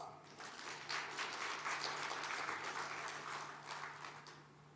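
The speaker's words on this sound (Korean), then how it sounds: "박수!" Applause from a congregation at a Sunday church service, a soft, distant wash of clapping lasting a few seconds over a steady low hum, fading slightly toward the end.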